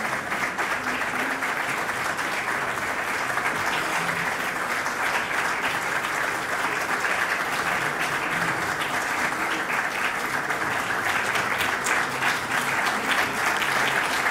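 Sustained audience applause fills an Iranian music award ceremony, many hands clapping steadily and evenly for the whole stretch, loud and continuous without speech on top.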